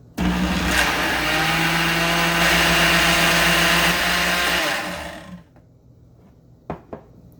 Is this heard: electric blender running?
yes